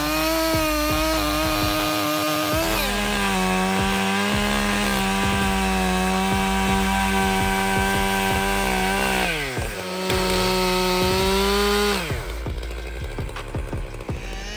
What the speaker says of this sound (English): Among the most powerful chain saws today, the Husqvarna 572 XP helps easily take down giant trees.